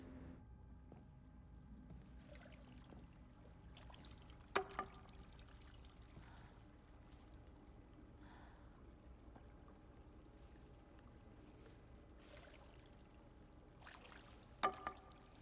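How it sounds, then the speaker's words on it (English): A small water feature trickles and pours steadily in a quiet Silent Hill f game scene, faint and continuous, with a couple of brief sharp clicks over the flow. "You hear that little water feature too?"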